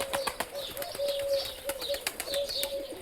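Pigeons coo in soft repeated phrases close by on a farm, mixed with chirps, sharp clicks and brief wing flaps, with no talk over them.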